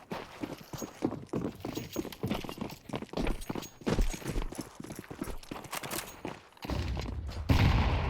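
Pistol gunfire in a Counter-Strike esports match, rapid sharp shots in quick clusters mixed with footsteps and other game sounds throughout.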